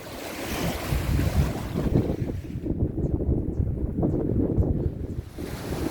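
Waves on Lake Tota, a high-altitude lake above 3,000 metres, wash in steadily over a broadband rush of water and gusty wind noise, close and continuous with no voices.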